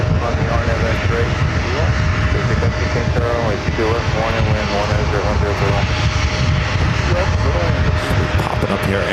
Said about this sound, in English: Air India now rolling down 13 right, heading back to Delhi in the A350-900